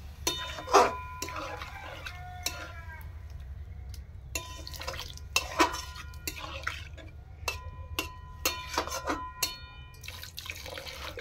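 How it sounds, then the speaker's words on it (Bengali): Water added to a pan of paneer masala cooking without onion or garlic, with splashing and bubbling under a run of clinks and taps of utensils against the pan, close and fairly quiet. "পনিরগুলো দিয়ে বেশিক্ষণ কষবো না, আমি জল দিয়ে দিচ্ছি একটু"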